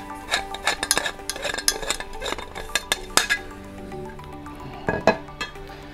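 Barrel being removed from a Bostik multi-function barrel gun for adhesives and sealants, a run of light close clinks, clicks and plastic-on-metal taps, with a final pair of clicks near the end.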